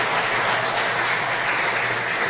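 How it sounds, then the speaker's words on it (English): An audience at a tribute ceremony honouring Belizean patriots claps in a continuous, even wash of applause, dense and steady for the whole short stretch with no voices standing out. "Another round of applause for Cynthia Therese Gab-Gill."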